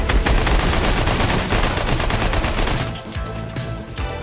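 Rapid, loud gunfire bursts from a Fortnite match fill the first three seconds near-continuously, then thin out into quieter scattered shots and game noise.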